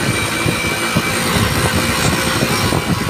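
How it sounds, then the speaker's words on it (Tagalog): A motorcycle engine runs steadily and loud up close, a dense continuous rumble with wind-like roar and no pauses, under a dark overcast sky. "ang ingay ng motor"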